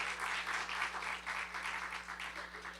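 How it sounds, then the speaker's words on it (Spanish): Congregation applauding God at a Bible festival church service. Dense, rhythmic clapping that is faint and steady, with a low electrical hum underneath, fading slightly toward the end. "Un aplauso fuerte al que vive"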